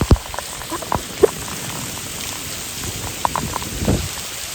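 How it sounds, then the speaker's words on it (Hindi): Heavy rain falls in a village as a steady dense wash, with scattered nearby drips and splats hitting surfaces at irregular moments. "मैं इस वक्त बारिश में खड़ा हूँ"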